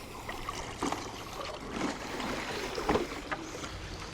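iGarden K-Series robotic pool cleaner lifted out of pool water, giving soft sloshing, trickling and dripping with a few louder splashes, fairly faint and continuous.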